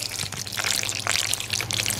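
Baked feta pasta being stirred with torn basil and cheeses, wet squelching and sticky slapping sounds close up, continuous and fairly loud with no talk.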